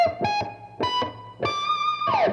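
An electric guitar with an effects unit plays a diminished seventh arpeggio, five or six separate notes picked one after another with short gaps, the last one sliding down, with no talking.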